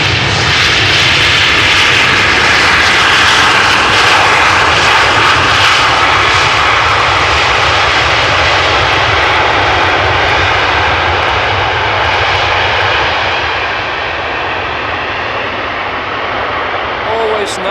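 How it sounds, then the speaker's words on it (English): A small airplane lands at Amsterdam Schiphol Airport and uses its thrust reversers, producing a loud, sustained engine roar that dominates throughout and eases slightly toward the end. "Always nice if such a small airplane makes such a big sound. Nice use of the reversers there."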